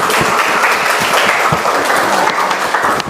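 An audience at an academic coaching session claps in loud, dense applause, many hands close and continuous throughout.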